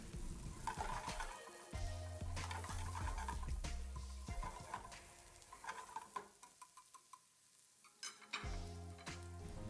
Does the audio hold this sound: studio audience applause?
no